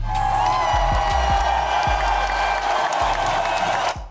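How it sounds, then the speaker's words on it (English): An applause sound effect plays as a steady wash of crowd clapping and cheering for about four seconds, with deep booming tones sliding downward underneath before it cuts off. "Applause, my bad."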